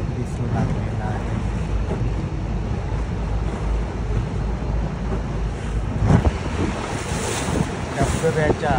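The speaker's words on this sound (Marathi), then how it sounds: "धबधब्याच्या अगदी जवळ आम्ही येत आहोत." Rhine Falls in Switzerland roars in a steady, loud broadband rush close to a boat, with wind buffeting the microphone throughout and a brief louder gust near the end.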